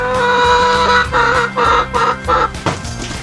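Backyard chickens cluck at a small barn-red coop, a run of close, clear clucks rising and falling in short bursts for a few seconds with no talk.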